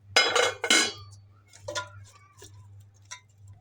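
A lid clanks onto a cooking pot of water chestnuts boiling in salted water, two sharp metallic clatters followed by lighter clinks and taps over a steady low hum.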